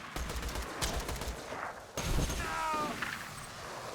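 Rapid SMG gunfire from Borderlands 2, the Chapman weapon, rattling in quick bursts amid other game combat noise, with a brief gap before a second loud volley.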